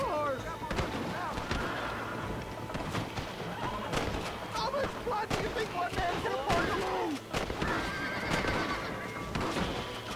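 Horses neighing and whinnying in the Red Dead Redemption video game, repeated calls amid gunfire bursts and hoofbeats during an escort mission, with a player talking over the action.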